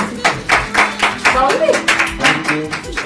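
Clapping at a family gathering around a cake cutting, a handful of people clapping in loose, fairly loud rhythm close by, with voices chattering and speaking throughout.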